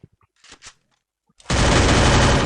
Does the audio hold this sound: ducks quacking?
no